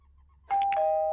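An apartment doorbell rings once with a clear two-tone ding-dong after a moment of near silence, close and sustained.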